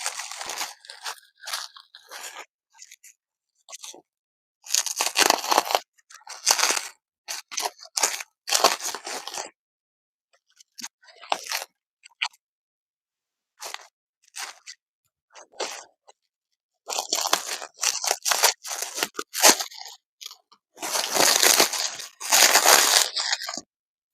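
Close, crinkly tearing and crunching of a package of vintage jewelry being ripped open comes in repeated bursts separated by pauses.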